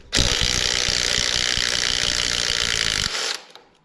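A ratchet wrench works a bolt loose on the pump of a 3.0 Duramax LM2 engine, making a rapid, continuous clicking rattle up close for about three seconds before stopping abruptly.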